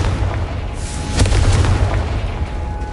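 A Confringo spell explosion in the video game Hogwarts Legacy, a loud, dense blast with a sharp burst near the middle over a steady rumbling roar.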